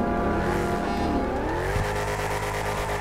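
A car in GTA 5 accelerates hard, its engine roaring loud and steady and rising in pitch as the tires squeal and skid, with no talking.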